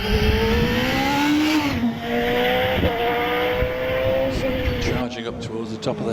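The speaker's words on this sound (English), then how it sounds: "Sandra Tomlin in the Pilbeam MP97, the Judd V8 4-litre" A Pilbeam MP97 hillclimb race car with a 4-litre Judd V8 charges uphill on the Harewood course, its loud engine screaming and rising in pitch through the gears, with a commentator talking over it.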